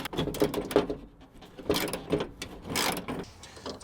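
Hand ratchet loosening the exterior door handle bolts on a 1995–2004 Toyota Tacoma, giving close, repeated bursts of metallic clicking with brief pauses between strokes.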